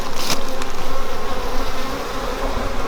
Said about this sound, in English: Lots of bees in and out.